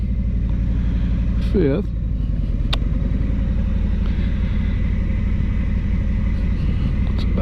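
A Harley Tri-Glide trike engine rumbles steadily and close throughout a morning ride near Ferrum, Virginia, while someone talks over it.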